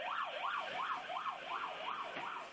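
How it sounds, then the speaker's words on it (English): An emergency vehicle siren wails during Tasmanian bushfires, a rapid rising-and-falling yelp repeating about every third of a second, fairly faint and distant, without any speech. "Frequent sirens, a reminder the danger hasn't passed."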